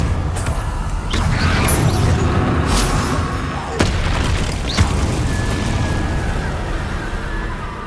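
Confringo fire-blast spell explosions in the video game Hogwarts Legacy, heard as a sustained booming rumble with a few sharp cracking bursts and scattered high whooshes, fading toward the end.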